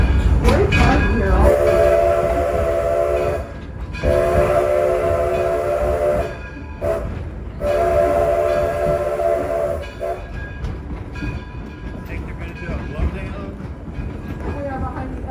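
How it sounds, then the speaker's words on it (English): The Edison steam locomotive, originally built as a Manchester and rebuilt in 1932 at a Ford plant, pulls a passenger train, sounding three long, loud whistle blasts over a constant rumble of rolling cars, with voices faintly underneath. "We are behind the Edison locomotive, originally built as a Manchester."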